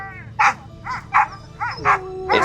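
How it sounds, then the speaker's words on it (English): Greenlandic sled dogs bark excitedly at feeding time, six or so loud, close barks spaced unevenly, with yelps overlapping and a low background din. "These Greenlandic sled dogs like to have their lunch."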